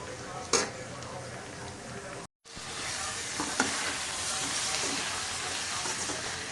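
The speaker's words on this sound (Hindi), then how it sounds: "यहाँ पर हमारी जो है वो प्याज ब्राउन हो रही है।" Onions browning in a pan for soybean keema give a steady, moderate sizzle with a few sharp utensil clicks, briefly cut off by a moment of silence before the frying hiss resumes.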